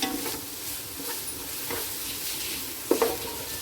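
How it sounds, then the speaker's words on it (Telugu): Chili powder and ginger garlic paste fry in a pan for a chicken curry, giving a soft, steady sizzle with faint stirring scrapes and a brief utensil clink near the end. No one speaks. "ఈ కారము అలాగే అల్లం వెల్లుల్లి ముద్ద కొంచెం పచ్చివాసన పోయే వరకు వేపుకోవాలి"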